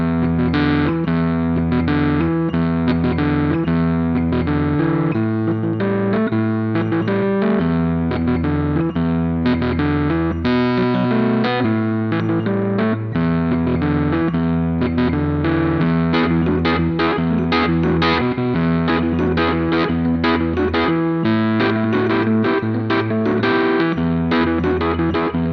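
A Rhodes V8 Pro electric piano plugin voiced to imitate a Wurlitzer plays a continuous passage of sustained chords and a bass line, loud and close, with a slightly driven, chorused tone and no talking.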